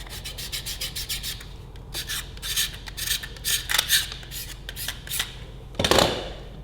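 Old engine pistons are scraped by hand, a close series of quick, rasping strokes in uneven bursts, ending with one heavier scrape.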